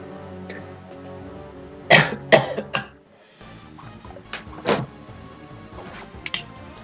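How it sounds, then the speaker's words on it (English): A burst of harsh coughs, several in quick succession, then a pause and another cough or two, close up over faint background music. "just a little bit of a coughing fit"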